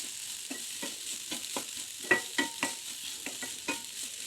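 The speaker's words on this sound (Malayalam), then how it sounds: "അതിനകത്തേക്ക് നമ്മൾ ഇടിച്ച് വെച്ച ചക്ക തോരനിട്ട് കൊടുക്കാം." Pounded jackfruit thoran fried with grated coconut in a pan, stirred with a spoon in regular scraping strokes over a soft, steady sizzle, close and fairly quiet with no voices.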